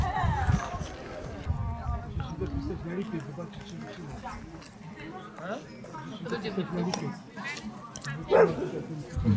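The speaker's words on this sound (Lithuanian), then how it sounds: "šunys jau" Dogs barking and yipping close by at a tourist stop in the Theth mountains of Albania, several sharp barks and whimpers scattered among people chatting nearby.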